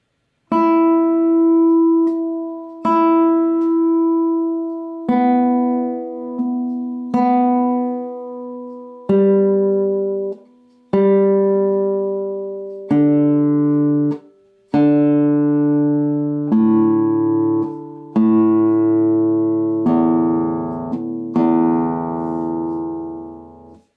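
Single guitar strings plucked one at a time, with the plucking speed varied to change tone color; about a dozen clear, ringing notes sound alone at a steady pace, each decaying before the next.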